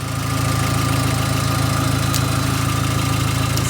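A car engine held at 2,500 RPM during a battery test drones in a steady, even hum with a regular low pulse, close and constant throughout with no talking.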